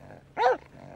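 A dog lets out a brief low growl while fighting over a squeaky toy, a single short snarl standing out above quiet background noise, no one speaking.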